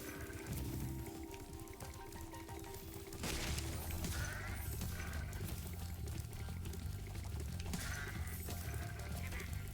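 Sheep bleating in the Spyro Reignited Trilogy platformer, heard over a dense, continuous bed of game music and effects that grows louder after the first few seconds.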